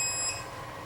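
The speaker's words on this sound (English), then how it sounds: "Why is it beeping?" An electronic device at an indoor photography workshop gives off a faint, thin, high-pitched beep of several short tones in under a second.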